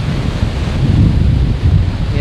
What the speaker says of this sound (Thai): ลมแรงคลื่นแรงนะครับ